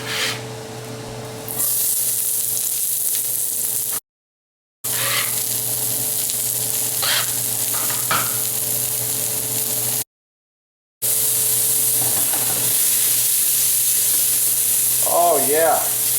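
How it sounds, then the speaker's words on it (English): Onions and garlic fry in clarified butter over high heat, a continuous bright sizzle with a steady hum beneath, a few scraping stirs and a brief whistling squeak near the end, broken by two short dropouts; no one speaks. "I'm putting 2 ounces or less of clarified butter, starting with my onions and garlic together."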